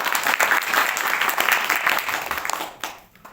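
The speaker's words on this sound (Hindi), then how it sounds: "जोर से एक बार ताली बजाए।" Congregation at a Sunday worship service clapping together: a brief burst of loud, busy applause that fades away over the last half second.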